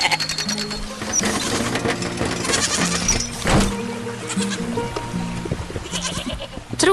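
A white goat bleats loudly and repeatedly near a plant-filled pen, its wavering cries close and overlapping with a rapid mechanical rattling.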